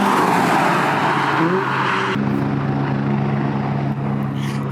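A Porsche 911 GT3 RS is driven at full throttle on track at Oulton Park. The engine roars loud and close without a break, its pitch stepping abruptly partway through before a steady high-revving drone continues.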